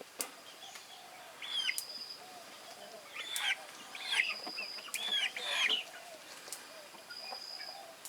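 Native Thai chickens cluck and squawk in short bursts from a moderate distance in a large coop, with a rooster-like call and some wing flapping over quiet background.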